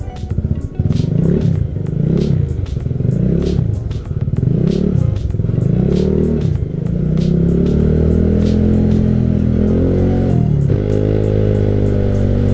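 A Yamaha Nouvo sporty scooter engine runs on a test ride, rising and falling through repeated revs and gear pulls, loud and close with steady mechanical clatter, settling into a smoother drone near the end.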